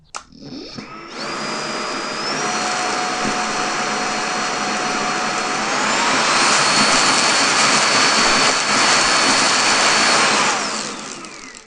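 A Bosch Unlimited 7 cordless stick vacuum runs continuously at close range, a steady high whine and airy rush that shifts pitch partway through and rises slightly in intensity.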